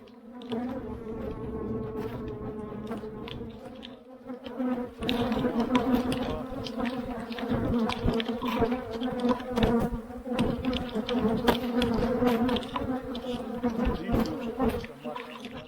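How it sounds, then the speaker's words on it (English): Dense, steady buzzing of many honeybees swarming close by, a continuous droning hum that grows louder and busier after the first few seconds. "today was the day to pick up bees"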